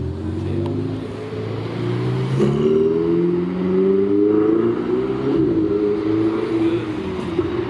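A Ferrari engine revs and drones on Rodeo Drive in Beverly Hills, loud and close, its pitch rising and falling in smooth sweeps as the car pulls along the street.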